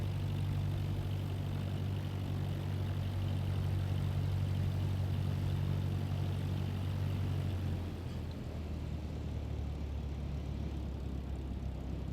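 Steady droning propeller engine of a Cessna on final approach to land in Microsoft Flight Simulator 2024, a continuous low hum that shifts slightly in pitch partway through as power changes.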